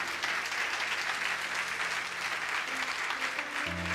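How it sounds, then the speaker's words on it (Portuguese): A church congregation applauds steadily and densely, a full wash of clapping that lasts throughout and ends in a low hum. "Dá-lhe um forte aplauso a Jesus Cristo."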